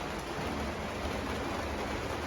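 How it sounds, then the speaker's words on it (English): Steady rain falls after hours of downpour. It makes a constant even hiss and patter from outside, with no breaks and no voices. "But this has been raining for hours"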